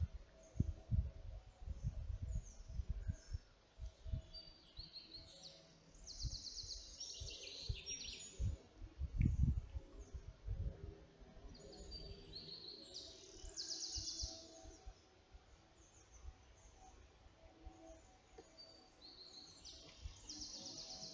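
Faint bird chirps and song phrases come and go over a low, rumbling outdoor background with occasional thumps.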